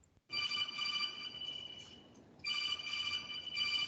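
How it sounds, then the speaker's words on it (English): A telephone rings during an online meeting in two sustained bursts of bright electronic ringing separated by a short pause, close and clear with no talk over it. "Whoever's phone's ringing, just put your computer on mute"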